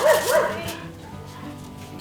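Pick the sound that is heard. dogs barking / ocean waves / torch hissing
dogs barking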